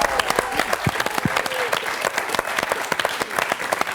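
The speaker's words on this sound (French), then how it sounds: "chaleureusement applaudi par le public ce soir de Questions pour un champion" Studio audience applause on the French TV quiz show Questions pour un champion: dense, steady clapping from a crowd that fills the whole stretch at an even loudness, with no voices over it.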